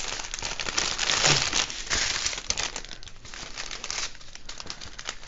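Loud crinkling and tearing of plastic packaging, continuous and close, with rustling bursts throughout and no speech.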